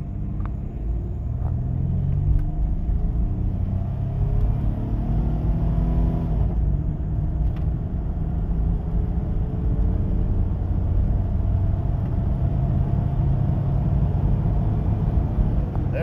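A Chevrolet S10 truck built with a throttle body spacer accelerates hard from 0 to 60, its engine a loud, steady rumble heard from inside the cab for the whole stretch.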